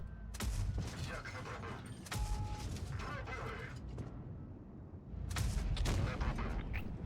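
Rapid bursts of tank cannon fire from a drum autoloader in the WoT Blitz tank game, several loud broadband shots spread across the clip over constant battle noise.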